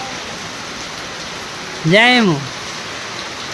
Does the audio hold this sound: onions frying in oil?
no